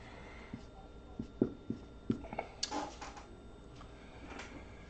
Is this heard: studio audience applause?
no